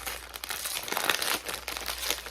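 A plastic blind box bag holding a Macaron Labubu figure is torn open by hand, giving a close, continuous crinkling rip with rustling plastic and no talk.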